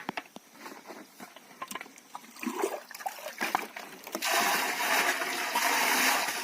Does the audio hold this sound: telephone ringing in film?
no